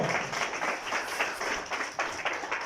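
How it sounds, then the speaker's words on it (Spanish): A church congregation claps to praise the Lord during a sermon, a thick, continuous roll of many hands with rhythmic surges, fairly close and steady throughout. "Denle el aplauso al Señor"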